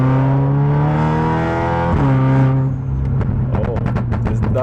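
A 500+ hp Audi S3 revs through a half-throttle pull in second gear, a loud close engine drone rising in pitch, then a sharp turbo blow-off whoosh and popping crackles as the throttle lifts.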